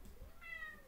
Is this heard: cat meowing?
yes